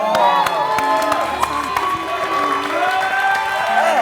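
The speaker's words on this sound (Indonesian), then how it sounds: "Kasih tepuk tangan." A crowd claps and cheers loudly throughout, with whoops and shouts rising over steady applause.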